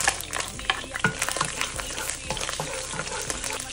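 Garlic sautéing and stirred in a pan for a Filipino pancit batil dish, a steady crackling sizzle broken by scrapes and clinks of a utensil, close and moderately loud with no talk.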